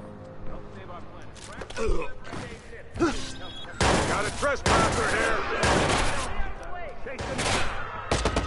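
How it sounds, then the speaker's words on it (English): Heavy gunfire rakes the player in the video game Watch Dogs: loud bursts of rapid shots and dense volleys from about 4 seconds on, with a voice reacting over the chaos. "What the hell's shooting me?"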